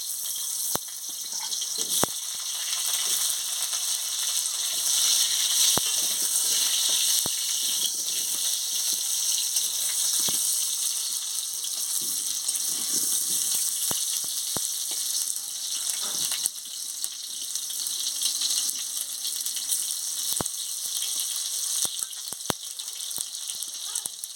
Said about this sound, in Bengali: এবারে তেলটা গরম হয়ে গেছে আমি আলুটা ভেজে নিচ্ছি